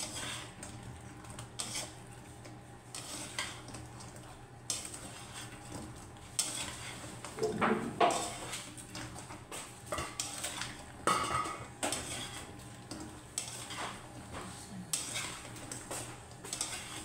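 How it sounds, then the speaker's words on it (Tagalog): Crispy pan-fried shrimp being stirred and tossed in a pan, with scattered clinks and scrapes of a utensil against the metal over a faint background hum. "Ihalo lang natin."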